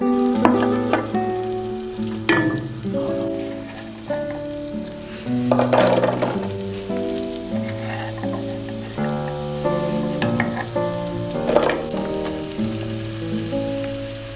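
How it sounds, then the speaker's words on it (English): Shallot and celery sizzle in olive oil and butter for a carrot soup, giving a loud, close, continuous crackling fry with music playing underneath. "cook the shallot and celery in olive oil and butter until they're soft and a little bit aromatic"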